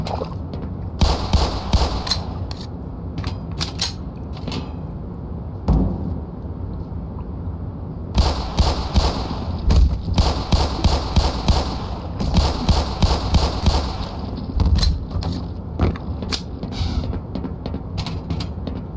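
Rapid repeated gunshots and mechanical clatter from the video game Black Mesa on hard difficulty, loud and close, with bursts of fire running almost continuously through the stretch with only a few short gaps.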